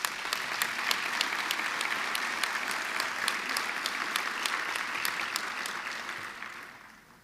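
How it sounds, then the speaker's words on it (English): A hall audience at a university autumn graduation ceremony breaks into sustained applause, with a few sharp individual claps standing out in the crowd. The clapping stays full and even before fading away at the end. "Let's give her a round of applause."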